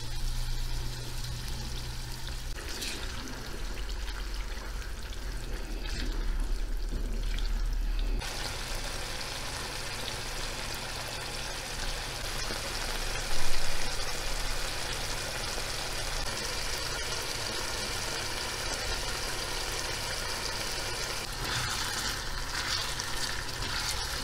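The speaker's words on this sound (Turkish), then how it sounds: "Şimdi rendelediğim domatesi ilave ediyorum." Minced meat fries in a pan as grated tomato is poured in, a soft thud followed by a loud, continuous wet sizzle and bubbling that carries on steadily with occasional stirring.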